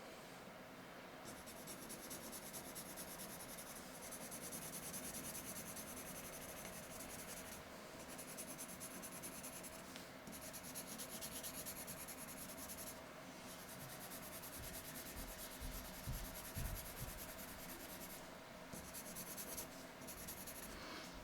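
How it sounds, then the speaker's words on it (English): Colored pencil shades paper in close, steady back-and-forth hatching strokes while a rainbow-colored peace sign is drawn; the scratchy rubbing runs continuously, fairly loud, with no talking. "varying the angle gives me a hatching of the pencil and helps darken in the areas that I missed on the last pass"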